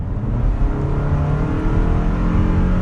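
A 2022 Toyota RAV4 XLE AWD accelerating in sport mode: a loud, close, continuous engine drone with climbing harmonics and steady road rumble, no voices.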